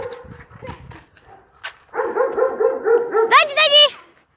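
A dog in a residential neighborhood barks close by in a rapid run of loud, repeated barks, ending in higher yelps, after a quieter stretch with people talking.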